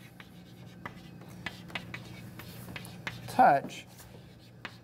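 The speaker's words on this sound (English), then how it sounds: "So I'm going to write that in over here for you." Marker or chalk writing on a board during a lesson on the face-centred cubic crystal structure, with soft scratchy strokes and taps under a teacher's speech.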